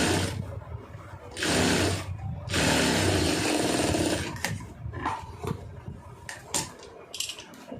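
A sewing machine stitches a lining blouse in two loud, steady runs of whirring, separated by a short pause, then gives way to scattered clicks and handling taps.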